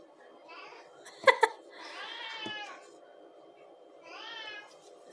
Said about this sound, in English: the cat in the kitchen.